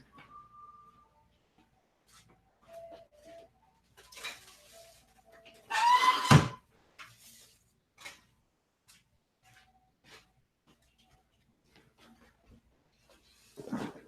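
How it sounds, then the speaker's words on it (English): A window being closed indoors: a loud scraping and thudding burst of a sash sliding shut, set among faint room noises and light clicks, with a quieter bump at the end. "I need to close some windows"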